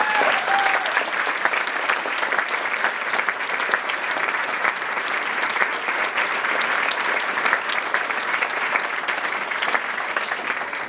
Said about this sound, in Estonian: Tehke üks suur aplaus iseendale!